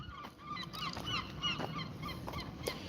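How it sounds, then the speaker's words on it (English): Seagulls call at the seaside at Gorleston on Sea, giving repeated honking, yelping cries from a little distance. The calls are faint over a low outdoor wash of wind and surf. "listen to the seagulls"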